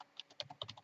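Keys clatter on a computer keyboard as a location is typed into a data entry field, a quick irregular run of sharp clicks, close and fairly quiet with no talking.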